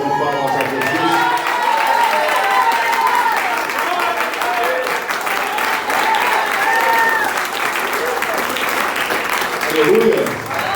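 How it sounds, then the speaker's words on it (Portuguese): A church congregation applauds for Jesus in sustained, dense clapping that fills the room for several seconds, with voices and shouts rising over it. "Só quem crê em milagre, dê a melhor salva de palmas a Jesus."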